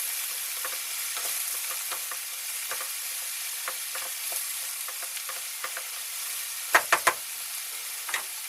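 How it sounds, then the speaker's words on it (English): Bolognese sauce with mushrooms sizzles steadily in a frying pan as it is stirred, with soft scrapes throughout and a few sharp utensil knocks against the pan near the end. "Let's stir around."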